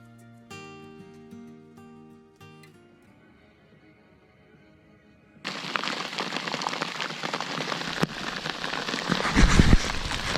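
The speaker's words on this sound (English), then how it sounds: "So I managed to just get in my boat as the rain started." Steady rain begins to hiss loudly on a kayak and lake surface at Crooked Lake, Saskatchewan, after a quieter stretch with musical tones, and it grows denser toward the end.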